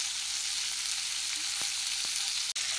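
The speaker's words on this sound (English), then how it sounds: "So you're just going to keep on flipping it from all sides till we get all the bacon to be crispy." Bacon-wrapped shrimp stuffed with cheese frying in oil, giving a steady, fairly loud sizzle throughout with a few faint clicks and a brief turning sound near the end.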